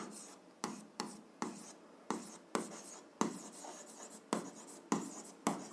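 Chalk or pen strokes write down coordinates during an algebra math lesson, a steady series of sharp, close scratching taps in an even rhythm, alone with no talk.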